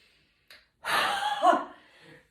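A deep, breathy exhale during a calming breathing exercise, one close, soft whoosh of air lasting about a second after a brief faint intake.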